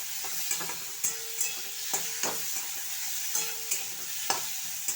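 Mango pieces with turmeric and salt stirred in a pan, a soft sizzle under repeated spatula scrapes and knocks in an uneven rhythm, close by and with no voices.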